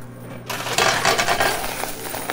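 Quarters dropping into a coin pusher machine, a rapid cascade of metallic clinks and jingles after a short pause, close and fairly loud, tapering off over a couple of seconds.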